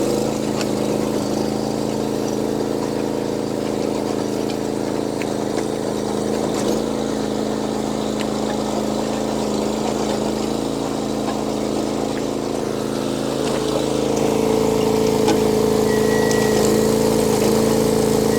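A large garden tiller engine runs at a steady, loud drone while churning soil, its tone shifting slightly lower and heavier near the end as the tines bite in; no voices.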